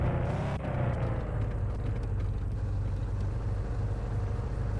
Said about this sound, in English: why is the car stopping now?